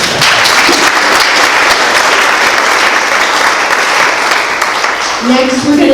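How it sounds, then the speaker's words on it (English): Loud, dense applause from a chamber of commerce audience for Joanne rolls on steadily and close, with a faint voice surfacing near the end. "Give Joanne a round of applause."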